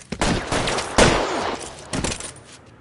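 Gunfire crackles in a police shootout in the video game LA Noire, several sharp bursts of shots in quick succession, loud and close, separated by brief pauses.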